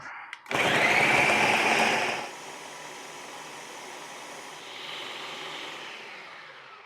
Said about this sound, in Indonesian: Nih yuk, saya blender dulu, gengs. Oke, chop, pure.